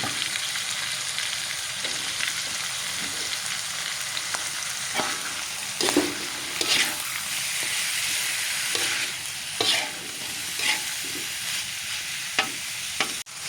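Shrimp and bitter gourd stir-fry in a hot pan, a steady loud sizzle with scattered crackles and occasional scraping stirs throughout, no talking.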